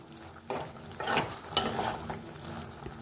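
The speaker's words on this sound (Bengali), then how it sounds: "এবার একটুখানি জল দিলাম দিয়ে এবার মশলাটা কষাবো" Masala of Kashmiri chili powder, a little water, and cashew and poppy seed paste being stirred and fried in a pan for a paneer dish, with repeated close scraping strokes over a gentle sizzle.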